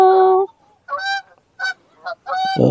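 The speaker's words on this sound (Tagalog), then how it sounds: "Wild ducks." Wild ducks call by a pond, loud nasal honking quacks coming in four or five separate bursts with short gaps between them, close by and clear.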